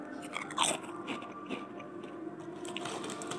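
Crunchy Egyptian potato chips being bitten and chewed up close, a loud crisp crunch near the start followed by steady crackling mastication over a noisy background, with no talk.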